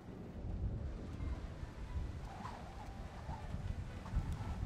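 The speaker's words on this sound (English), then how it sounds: "Thunderstorms make me nervous." Steady thunderstorm ambience from the stealth video game Splinter Cell: Chaos Theory: a dense wash of rain and wind noise with low rumbling underneath and a few faint higher tones, continuous and fairly quiet, with no talking.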